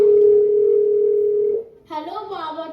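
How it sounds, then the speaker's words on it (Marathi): A steady telephone ringback tone sounds close and clear for about a second and a half while a call is placed at home on Diwali, then breaks off as a voice begins speaking. "थांब मी फोन लावते."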